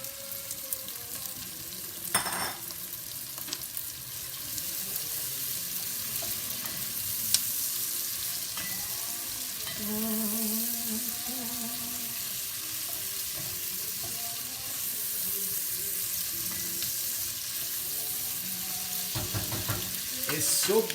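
Peppers frying in a pan for ciambotta give a steady close sizzle and hiss, with occasional stirring clatter and light knocks throughout, and no talking.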